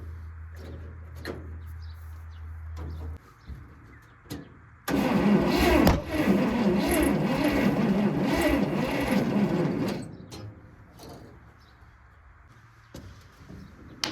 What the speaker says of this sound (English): All right, more backfiring.